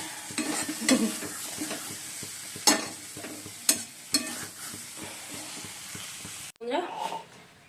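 Potatoes sizzle as they are fried and stirred in a pan, a steady hiss broken by several sharp scrapes and clinks of the spoon against the pan, with a brief break near the end.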